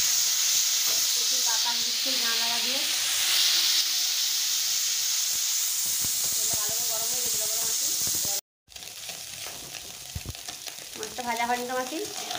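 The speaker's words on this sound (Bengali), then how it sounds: "মাছগুলো আমাদের ভাজা হয়ে গেছে, একটু ভেঙে গেছে মাছগুলো, লাল লাল করে ভেজে নেওয়া হয়েছে।" Piyali fish coated in salt and turmeric fries in a pan with a loud, steady sizzle and hiss that drops out briefly midway, while a voice talks intermittently over it.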